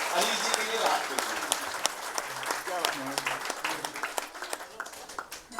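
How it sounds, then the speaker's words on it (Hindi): Applause at a Kavi Sammelan poetry gathering for a poet, a crowd clapping steadily with murmured voices mixed in, fairly close, tapering slightly near the end. "एक बार सारे मिलकर हाथ खड़े करके सर के लिए तालियां बजाइएगा"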